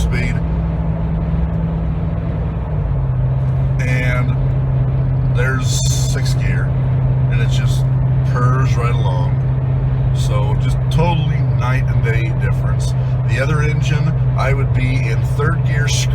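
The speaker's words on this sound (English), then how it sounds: "third gear screaming right now at about 65" A Jeep JK fitted with an LS engine cruises on the freeway in third gear at about 65 mph, its steady engine drone and road rumble running under someone talking.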